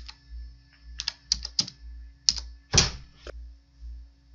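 Keys on a computer keyboard are tapped in an irregular run of soft, close clicks, with a heavier keystroke near the end, over a low steady hum and no voices.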